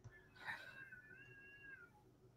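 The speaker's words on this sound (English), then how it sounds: "There's some cats beefing outside, so you can hear that." Cats fighting outdoors let out one drawn-out yowl. It is faint and distant, over a quiet room background, with no one talking.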